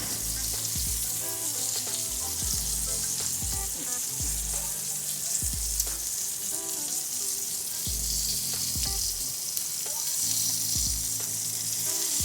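Chicken livers fry in a pan with a bright, steady sizzle, broken by recurring low thumps and scrapes of a utensil moving and turning pieces, close and fairly loud.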